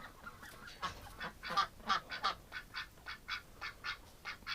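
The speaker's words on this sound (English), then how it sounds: "Oh, look at all the ducks in here." A crowd of ducks gathered indoors in a shelter, with repeated honking quacks from several birds overlapping at irregular intervals, moderately near and fairly soft.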